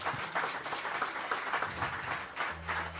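Steady applause from a church congregation during a worship service fills the space for a few seconds, moderately loud with a low hum underneath.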